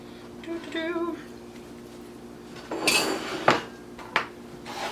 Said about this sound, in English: I'll actually cut a proper little piece out.